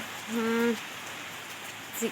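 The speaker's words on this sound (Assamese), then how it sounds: "পূৰা বৰষুণ দিছে তিতি গ'লোঁ" Rain falls steadily in a soft, constant wash, while a voice briefly sounds near the start and again at the end.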